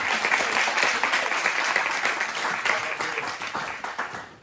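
A church congregation bursts into sustained applause, a dense wash of many hands clapping at close range that slowly tapers off over several seconds.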